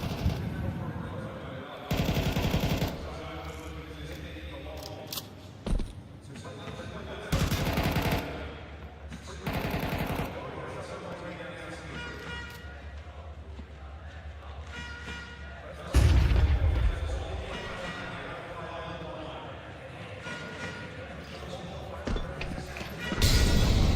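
Gunfire in a Counter-Strike esports match at Intel Extreme Masters Kraków: loud, sharp bursts of shots and booms break out at irregular intervals beneath continuous excited commentary.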